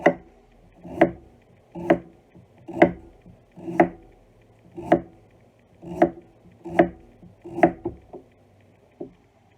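A knife slices cabbage into thin strips on a cutting board, giving about ten crisp, even chops a little under a second apart, close and distinct with quiet gaps between them.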